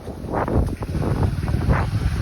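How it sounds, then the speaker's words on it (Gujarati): Wind gusting and buffeting close to the microphone, a continuous low rumbling roar with swells, no voices. "ફૂલ વરસાદનું વાતાવરણ થઈ નાખ્યું અને વાયરો ચાલુ થઈ ગયો છે"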